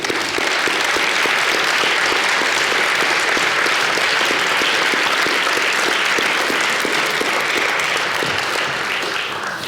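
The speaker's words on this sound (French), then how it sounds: "On va t'applaudir déjà." A conference audience at a talk on collapse and possible futures breaks into loud, sustained applause, a steady dense roar of many hands clapping close by, unbroken and even in level from start to finish.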